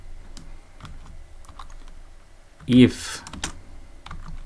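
Computer keyboard typing while entering Python code for a rock, paper, scissors game, a steady run of light close key clicks with one louder burst near the end, someone speaking over parts of it.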